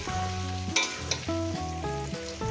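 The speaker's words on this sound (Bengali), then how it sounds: "এটা আমি লাল লাল করে ভেজে নেবো" Potatoes frying in a pan, a steady sizzle with occasional louder crackles and stirring clatter, close and continuous over what sounds like background music.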